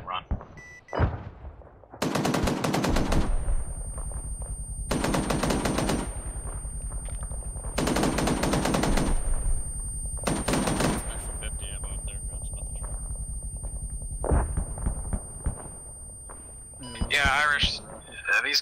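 Aircraft guns in a combat video game fire in several long, loud bursts of a few seconds each, separated by pauses with a steady engine drone underneath, and a voice speaks briefly near the end.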